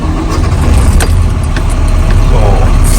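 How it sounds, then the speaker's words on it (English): A large diesel Class A truck engine cranks and rumbles to life, settling into a loud, deep idle that continues steadily throughout. "I will start the engine again."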